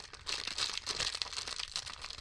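A small plastic bag holding four keyboard switches for an Akko 5075 B keyboard crinkles steadily up close, a continuous rustle with no talk.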